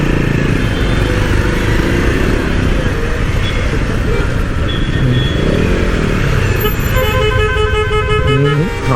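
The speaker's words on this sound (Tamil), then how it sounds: "ஹார்ன் அடித்தாலும் நான் வழி விட மாட்டேன்." Loud, dense traffic noise on an evening motorcycle ride on ECR, engines rumbling and several horns honking intermittently, including a repeated toot near the end.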